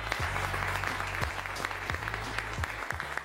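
Sustained applause from an audience at an award announcement, dense clapping throughout with a few sharp individual claps standing out, fairly close and lively.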